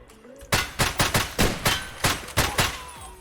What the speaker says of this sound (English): I guess the gunshots moved him around a little bit